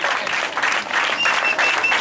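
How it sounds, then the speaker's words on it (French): Audience applause after a student's recitation, a short, steady burst of dense clapping from a crowd, fairly loud and close, with no talking over it. "Applaudissez fort."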